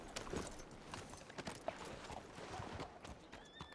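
Horse hooves clop on the ground at a brisk walking pace in Red Dead Redemption 2, a rhythmic series of knocks at moderate distance, with faint background noise.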